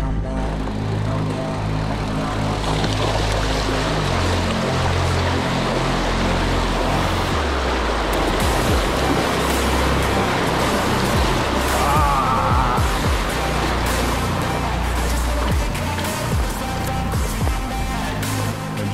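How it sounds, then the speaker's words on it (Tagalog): A strong river current rushes steadily at a mountain site in Rodriguez, Rizal, a broad, continuous roar of churning water that stays loud and unbroken throughout with no voices heard. "Malakas yung agos ng tubig."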